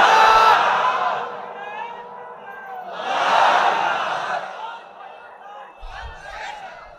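A crowd shouts a takbir in response to a preacher at a religious sermon, loud rising group voices in two bursts, the second swelling around the middle, with the preacher's voice before them.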